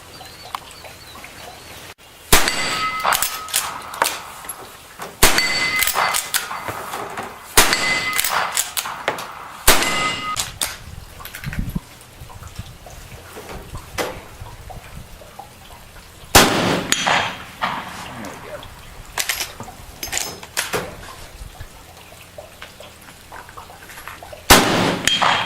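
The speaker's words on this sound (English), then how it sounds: "We're just going to be doing some shooting on that with the M92 with the Missouri Bullet Company 300 grain bullets." An M92 rifle fires 200 grain Missouri Bullet Company bullets at an AR500 steel plate 100 yards out: about eight sharp shots spaced several seconds apart, each with a distant metallic ring, under quiet outdoor ambience.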